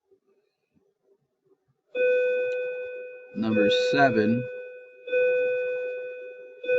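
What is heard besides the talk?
school bell ringing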